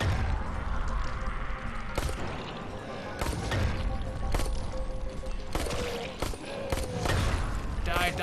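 Gunshots fired at a zombie in the video game Dying Light crack out in a loose, irregular series over a busy, noisy background, with someone talking in between.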